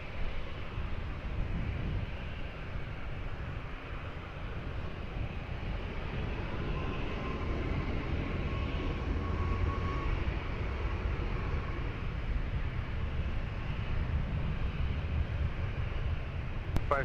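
Jet aircraft taking off at Lisbon Airport, a steady, broad engine roar held at a constant level throughout, heard from some distance.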